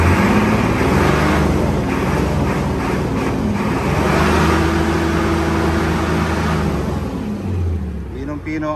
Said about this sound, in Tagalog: try po natin i-revolution lang ng konti para marinig yung makina